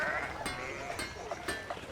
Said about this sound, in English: The damn sheep are in the way.